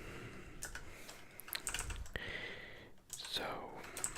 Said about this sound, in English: this ASMR is also a mechanical keyboard ASMR.